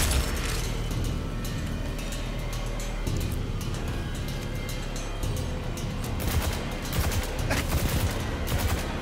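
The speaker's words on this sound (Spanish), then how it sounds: "Eso que viene de luz son disparillos" Rapid bursts of gunfire crackle over a dense, continuous rumble, with sharper volleys clustering near the end, in a Destiny 2 game battle.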